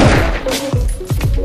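Rapid gunshots ring out in a Grand Theft Auto game as a loud, close burst of several booming shots in quick succession, with chaotic game noise around them.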